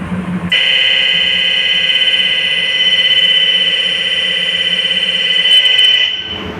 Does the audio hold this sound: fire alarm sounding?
yes